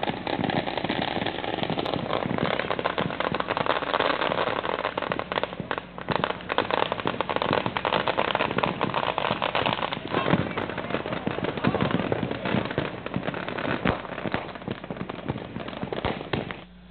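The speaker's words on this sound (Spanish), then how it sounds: "recibieron entre luces, petardos y fuegos pirotécnicos el 2019" Dense, continuous crackling of firecrackers and fireworks at New Year celebrations in Honduran towns including Choluteca and Comayagua, a loud unbroken barrage of rapid pops and bangs.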